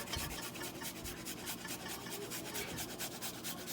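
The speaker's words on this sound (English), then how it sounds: "I'm gonna grate one carrot with this hand grater" A carrot is rubbed against a hand grater in a continuous, rapid, rhythmic rasping scrape, close and moderately loud, with no talk.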